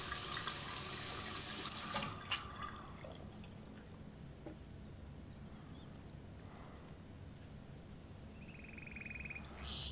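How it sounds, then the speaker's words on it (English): Steady running water from a shower tap in the Heavy Rain video game, a soft continuous hiss heard alone at low level throughout. "keep the water off and turn it back on when I need to rinse"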